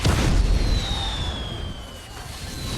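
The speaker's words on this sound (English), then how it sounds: "now those are impressive fireworks even by modern standards" Fireworks booming in a film scene, a heavy low explosion with a rumbling tail and a faint whistling streak fading over a few seconds.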